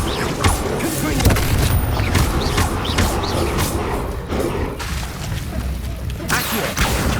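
Explosive fire spell Confringo going off in the video game Hogwarts Legacy on PS5, dense booms and crackling blasts under busy, continuous game noise, with a voice speaking over it.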